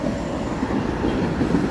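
A Toronto subway train runs on weather-worn outdoor track through a slow zone, giving a brief, steady rolling rumble of wheels on rails at moderate distance.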